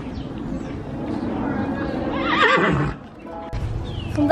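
A horse whinnies loudly in a rising and falling call, with snorts and shuffling around it and a short break near the end.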